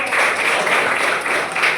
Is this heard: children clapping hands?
yes